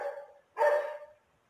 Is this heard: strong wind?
no